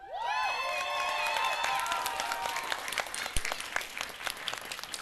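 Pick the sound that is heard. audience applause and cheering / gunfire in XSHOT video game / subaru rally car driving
audience applause and cheering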